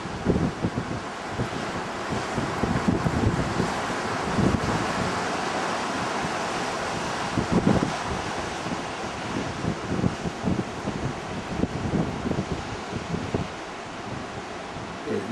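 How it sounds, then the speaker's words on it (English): Strong wind buffeting the microphone at Castle Cove by the sea, a constant loud roar with gusty thumps and surf washing underneath throughout. "Fairly windy here today, very windy actually."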